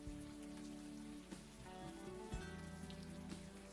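Steady rain falls in Unavowed, a soft, continuous patter and hiss under a low drone of game music and ambience, with a few slightly louder drops.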